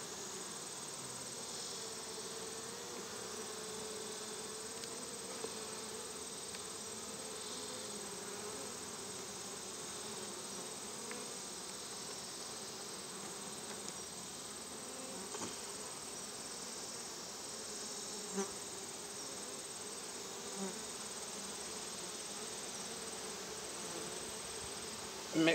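Honeybees buzz steadily during a hive inspection, a soft, even drone from many bees close around an opened colony. No talk is heard, and only faint ticks of handling break the hum.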